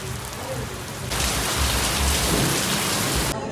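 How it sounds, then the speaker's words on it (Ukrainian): Heavy rain pours down in Valencia, starting moderate and then surging into a loud, dense downpour that roars steadily before cutting off. "зараз буде злива"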